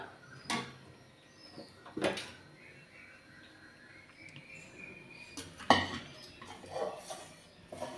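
Sautéed grated coconut for coconut laddu being moved from a pan onto a plate, with several sharp scraping clinks of utensil on metal spread across a quiet kitchen background.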